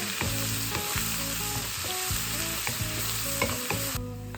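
Two bulbs of finely chopped garlic sautéing for chicken adobo, a constant close sizzle under a backdrop of background music, with no voices.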